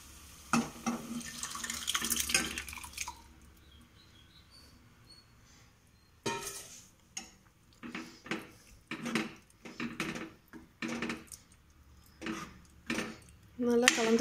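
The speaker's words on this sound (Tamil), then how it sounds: "அந்த பச்சை பயிரை வந்துட்டு இப்போ வந்து ஊற்றிடலாம்" Boiled green gram poured and scraped from a vessel into a pan for a kulambu, with wet splashing at first, then a run of short clinks and scrapes of a spoon against metal, faint and close, with speech intermittently.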